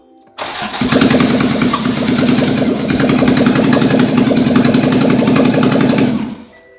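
A Toyota AE86 with a 4A-GE 20-valve Black Top engine cranks and catches, then runs at a loud, rough, rattling idle for several seconds before cutting off abruptly.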